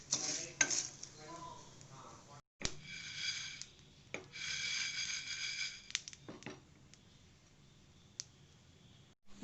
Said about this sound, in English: Now we have to dry roast these masalas for 1 minute at a low flame.